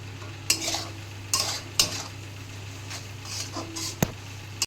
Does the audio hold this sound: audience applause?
no